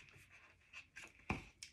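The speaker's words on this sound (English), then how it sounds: "And then I bring my second pencil in and mark my ruffle space." A pencil makes several short, faint scratching marks on scrapbook paper, with a sharper tap near the end, in a quiet room with no talking.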